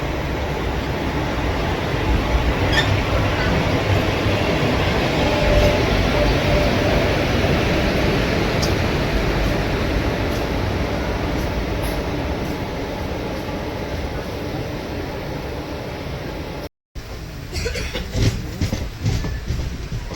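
The Guruvayur Express, train 16127 from Chennai Egmore to Guruvayur, rolls along near Tiruchirappalli with a loud, steady rumble and rattle of wheels that lasts throughout, briefly cutting out once near the end.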